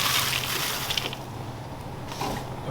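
Air-popped popcorn made without oil or butter being poured from a pot into a bowl, a soft continuous rustling slide of light kernels, moderately close with a small surge near the end.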